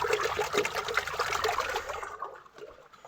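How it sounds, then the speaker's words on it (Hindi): Spring water gushes and trickles out from between rocks, a steady close splashing flow that thins out toward the end. "ये पत्थरों के अंदर से पानी निकलता है"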